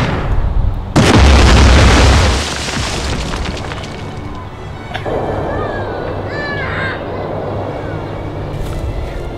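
A single loud volley of musket fire booms out at once, followed by a decaying rumble and then a quieter stretch of background noise, in a simplified, comic depiction of the Battle of Cowpens.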